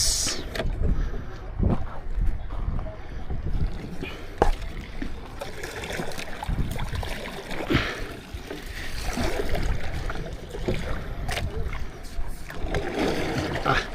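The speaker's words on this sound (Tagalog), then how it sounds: "Mahangin ngayon, mahangin." Steady gusty wind roaring across the whole stretch at a river, with faint voices and water noise underneath, loud and close to the ear.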